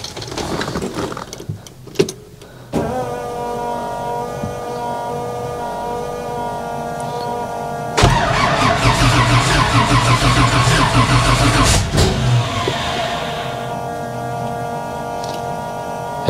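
A car engine fitted with Holley Sniper EFI is cranked by the starter, first in a short grinding burst, then again in a longer, louder whirring crank that nearly catches before winding down, close and clear with no talk.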